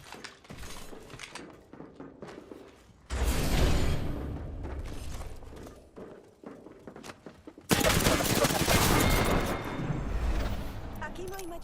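Bursts of video game gunfire come in waves, quieter rattling and mechanical clatter between two loud, dense volleys of rapid shots that start abruptly and sustain for several seconds.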